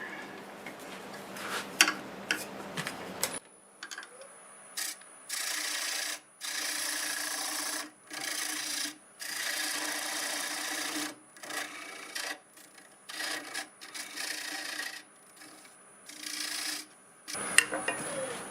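Lathe tool cutting a dovetail into spinning apple wood, a raspy scraping cut that runs in repeated bursts with brief pauses, close and fairly loud, no talk.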